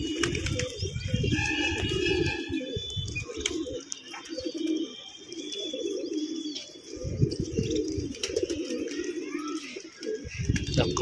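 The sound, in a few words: pigeon taking flight, flapping wings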